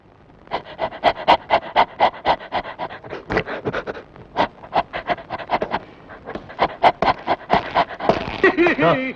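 A voice imitates a dog, with rapid rhythmic panting breaths and a brief whimpering whine at the end, loud and close.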